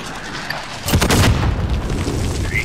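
A rocket strikes with a deep, booming explosion in Call of Duty: Modern Warfare, a heavy blast that rolls on as a sustained rumble after a quieter lead-in.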